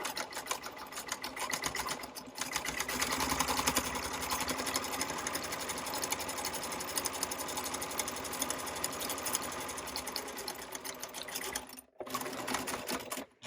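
A sewing machine back stitches a tote bag pocket at 2.5 stitch length, a loud continuous close-up whir with quick needle chatter and a couple of brief pauses near the end.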